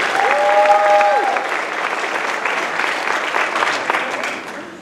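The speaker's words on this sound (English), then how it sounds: "Let's give both ladies one more big round of applause" A crowd applauds two pageant titleholders at a Miss Harvest Homecoming ceremony, broad steady clapping filling the room, with a brief sustained tone early on and the ovation tapering off near the end.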